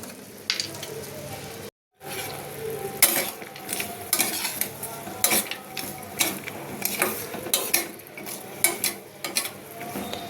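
Almonds tumble into a pan of sugar for candied almonds, giving close, uneven clatters and scrapes against the metal with a brief silent gap near the start.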